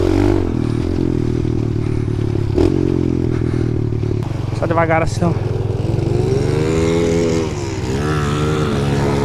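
Motorcycle engine running loud and close on a dirt trail, holding a steady rumbling drone with rising and falling revs and some clattering, while someone talks briefly over it.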